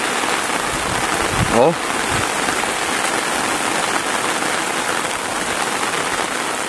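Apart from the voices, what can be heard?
rain falling in the Bahia backcountry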